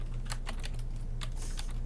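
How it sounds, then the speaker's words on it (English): Computer keyboard keystrokes come in a steady patter of close, crisp clicks, some in quick clusters, over a low background hum with no voices. "Was I typing caps lock?"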